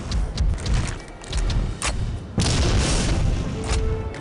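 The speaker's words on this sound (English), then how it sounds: "Save. It's shotgun time." A shotgun fires in the video game Clive Barker's Undying, giving a couple of heavy booming blasts with rumbling tails over game noise.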